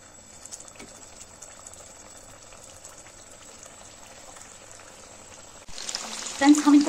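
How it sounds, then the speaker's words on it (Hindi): Kachori made from wheat dough drop into hot oil near the end: a quiet room tone breaks into a sudden loud, close, bubbling sizzle that keeps going. "अब हमारी कचौड़ियों के लिए तेल भी गर्म हो चुका है। अब हम इसमें डालेंगे कचौड़ियाँ।"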